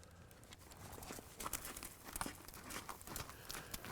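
Horse hooves at a lope while ridden in a training session, soft irregular thuds in a loping rhythm, fairly near, mixed with rustling and tack noise; no talk.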